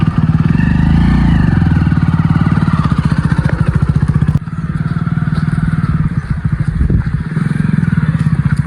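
Motorcycle engine running close by, a loud, fast, even thumping rhythm that briefly dips in level partway through, then carries on strongly.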